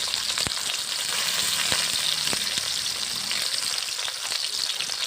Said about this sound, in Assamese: আৰু ইয়াত তেল পকাত মই পিঁয়াজ দি দিলোঁ।